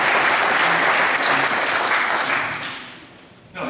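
Many people in St. Nicolai church, Wittmund, applaud at a barrel organ concert, loud and steady at first, then thinning and fading out over a few seconds before a brief noise at the end.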